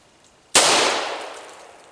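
A single sharp gunshot from a 45 Colt fired with a CCI shot shell cracks loudly and close, its blast decaying over a second and a half.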